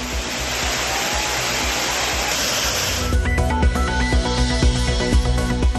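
Water pours steadily over the Courtallam falls as a dense, even roar for about three seconds, then gives way to a different, more tonal background.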